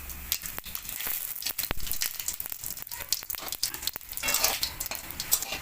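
Cumin seeds and a bay leaf hit hot oil in a pan, giving a close, loud, crackling sizzle with bursts of popping and some stirring scrapes, no talking.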